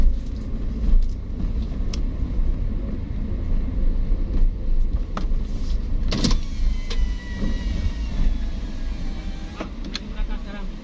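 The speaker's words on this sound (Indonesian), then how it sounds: "Kita sudah memasuki ke terminal bus ya" Vehicles idling and moving around a bus terminal, a steady low engine rumble with occasional clunks and a passing sharp knock, with voices talking over it throughout.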